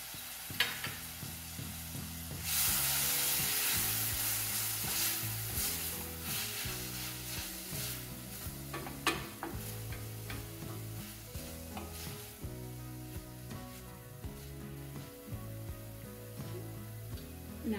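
A pan deglazed with lime juice while making a no-cheese bean dip lets out a burst of sizzling about two seconds in, then settles into steady frying and stirring, with background music underneath the whole time.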